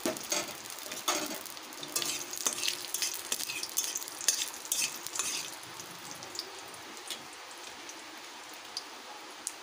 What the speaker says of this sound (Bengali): ফোড়নে দেব 2টো তেজপাতা, 2টো শুকনো লঙ্কা, গোটা গরম মশলা